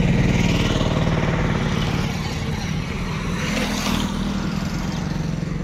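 A truck's engine idles steadily and loudly the whole time while the vehicle is being loaded for a trip to Khammam, a continuous low rumble with no talk over it.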